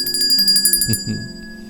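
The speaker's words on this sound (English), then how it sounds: "signaled by the ringing of the bell on the family Christmas tree" A small bell on a family Christmas tree rings in a quick run of bright, evenly spaced tinkling strikes, loud and close, then fades into a short lingering ring.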